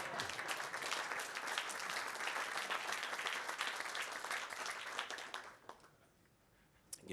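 A large audience at a German-American forum breaks into sustained applause, a loud dense wash of clapping that fades out near the end.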